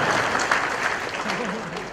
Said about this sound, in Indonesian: Tepuk tangan buat ikan.